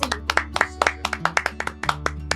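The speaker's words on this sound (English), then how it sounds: "A big round of applause to Deepika" A small audience claps for Deepika Padukone at a mental health talk, a sparse, uneven burst of individual sharp handclaps repeating steadily over a low hum, close and fairly loud with no talking.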